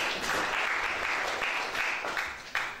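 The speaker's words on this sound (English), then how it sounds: "Round of applause for yourselves." An audience at a reality TV show event claps for itself in a dense, steady burst of applause that carries through the whole moment, close and lively.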